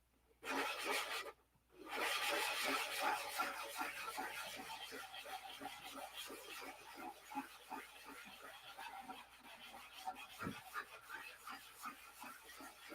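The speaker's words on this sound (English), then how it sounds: "You sanded all the paint off." Paint being sanded off a P-47 warbird part, a steady dense scraping rasp that runs nearly continuously with brief pauses, close and moderately loud.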